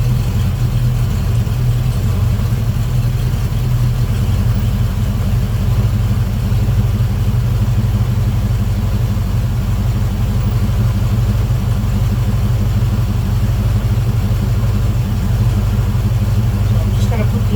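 A Volvo Penta 454ci marine V8 fitted with an HEI distributor runs steadily at raised RPM, a loud continuous low rumble lasting the whole stretch, with a voice talking over it.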